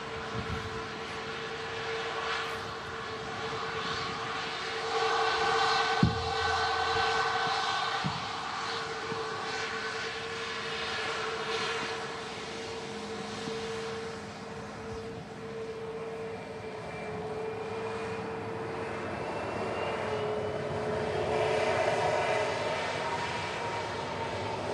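Ryanair subsidiary airliner at Manchester Airport, a steady moderate engine roar with a sustained whine, heard from a distance with no talk.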